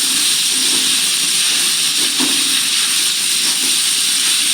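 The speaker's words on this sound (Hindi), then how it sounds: "साबूदाना डालने के बाद ना मैं इसको अच्छे से भून लूँगी" Sago pearls roasting with cumin seeds in a pan, giving a steady, even hiss that holds at the same level throughout with no pauses.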